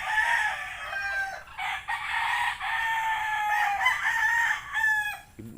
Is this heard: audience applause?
no